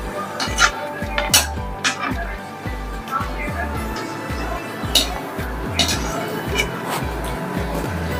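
A utensil lifts golden-brown fried onions out of hot oil in a pan while cooking dum biryani, giving repeated metallic scrapes and clinks against the pan with a steady oil hiss underneath and a person talking over it.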